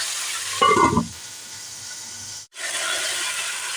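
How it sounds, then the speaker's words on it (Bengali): Vegetables cooking for a Bengali mixed-vegetable curry sizzle steadily in a pan, with a brief louder burst of stirring and scraping near the start before the frying hiss settles back to a constant, close-up simmer. "সুন্দর করে নাড়াচাড়া করে এটাকে হালকা আঁচে বসিয়ে দিলাম"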